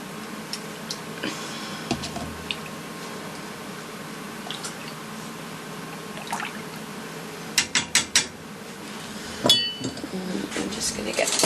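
A spoon scrapes the last of some homemade yogurt from a container, giving a few quiet scrapes and then a quick cluster of sharp clinks against a faint background hum.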